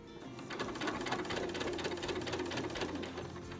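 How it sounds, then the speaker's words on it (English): A sewing machine stitches a seam on an apron, a short, even burst of rapid mechanical whirring and needle clatter, moderately quiet and heard alone. "And then you're going to just sew right over that."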